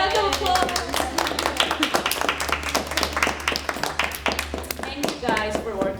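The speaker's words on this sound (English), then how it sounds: "Let us give us a round of applause" An audience claps at a library gathering, a dense patter of hands that runs steadily for several seconds, with a voice speaking over part of it.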